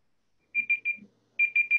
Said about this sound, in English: That's somebody else's phone or something beeping